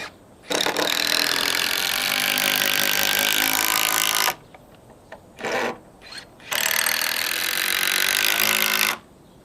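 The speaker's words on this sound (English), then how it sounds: "I'm going to put them in with the impact driver" An impact driver sinks a long 150mm self-tapping bugle screw into a timber rafter beam without pre-drilling, in loud sustained bursts separated by short pauses and brief quieter pulses.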